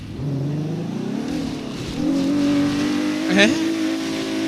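A car engine in a video game revs and accelerates, rising in pitch over a few seconds with a sharp swell near the end, heard under people talking.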